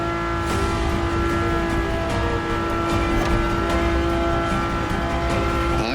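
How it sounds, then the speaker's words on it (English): A Ferrari engine in the driving game The Crew Motorfest, heard from inside the cabin, drones loudly and continuously at a steady high pitch, its harmonics holding nearly constant as the car cruises. "And the car's voice sounds even better from inside."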